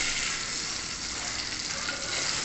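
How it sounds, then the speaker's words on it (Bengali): Brinjal pieces fry in hot oil in a pan, giving a dense, steady sizzle with a crackling hiss that stays even throughout, with no voices over it. "বেগুনগুলো ভালো করে ভাজা করে তুলে নেব"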